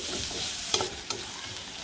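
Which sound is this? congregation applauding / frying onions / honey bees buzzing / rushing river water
frying onions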